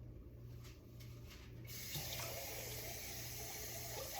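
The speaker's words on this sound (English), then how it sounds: "I'm just going to rinse these off." Tap water runs into a kitchen sink while items are rinsed, a steady close splashing that grows fuller after the first couple of seconds.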